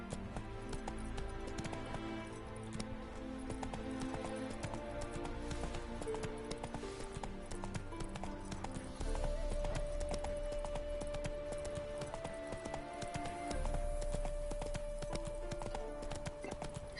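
Hooves of the horse Roach clip-clopping at a gallop in The Witcher 3, a steady rapid beat of hoof strikes running under music.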